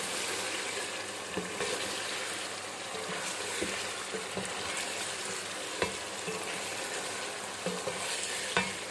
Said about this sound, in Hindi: अब बुनाई का टाइम स्टार्ट हो गया है। अब इसको कवर नहीं करना, कुछ देर इसकी बुनाई करनी है सिर्फ